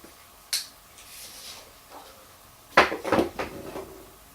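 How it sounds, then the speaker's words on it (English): Light papery rustles and soft clattering flutters of A4 sheets, a brief flick early on, then a cluster of quick fluttering drops settling into a box, close and fairly quiet. "you put one in, they make that fluttering sound"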